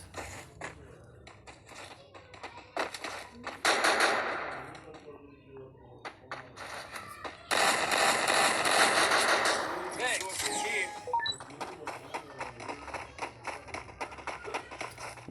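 An SKS rifle fires in a video game, with loud bursts of shots and clusters of rapid reports. Quieter taps and pings sound between the volleys.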